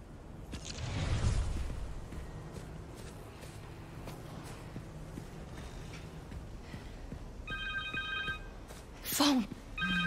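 A cell phone rings inside the Spider-Man 2 PS5 game: a short electronic ringtone near the end, over a rumbling bed of city ambience and game effects.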